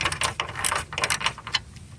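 A ratchet with a 7mm socket removes small screws from the grille of a 2006 Chrysler PT Cruiser, giving quick, close clicking bursts in an uneven rhythm.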